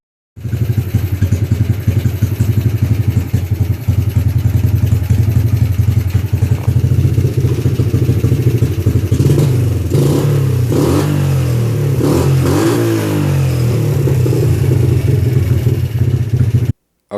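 A Kawasaki KLT 110 three-wheeler engine with a freshly repaired shift shaft runs loud and close, a steady low rumble that swells into several throttle blips and revs toward the middle before settling back down.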